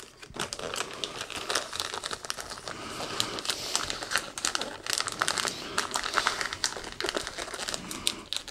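Close, steady crumpling and crinkling of wrapping paper while Christmas presents are wrapped, dense crackling rustles running nearly nonstop with brief louder bursts and no talk.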